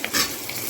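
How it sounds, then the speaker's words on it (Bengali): Potato pieces frying in hot oil for a mixed vegetable chorchori give off a brief, steady crackling sizzle with a light stirring scrape, close and moderately loud with no voices. "এগুলোকে একটু ভালো করে ফ্রাই করব।"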